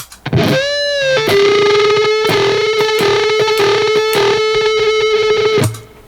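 A distorted electric guitar plays a solo lick, bending into a long sustained note with buzzing, modulating overtones and picked attacks, loud and alone.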